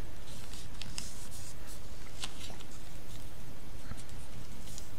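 Paper is folded into an origami turkey, giving soft crinkles and scattered light taps and rustles over a steady faint hiss, with no talking.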